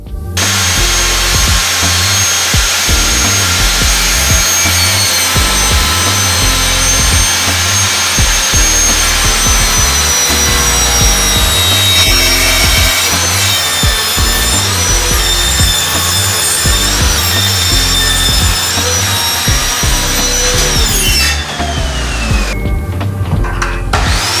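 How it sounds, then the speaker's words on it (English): A power tool cuts the lip off a pine drawer top, a loud, continuous whining drone with repeated bursts of cutting through wood, close by and alone, until it winds down at the end. "With the back more secure, I cut the lip off of the side and the front of the top."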